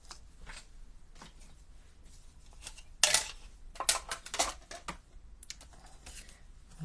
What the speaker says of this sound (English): I might just cut a cloud out of that.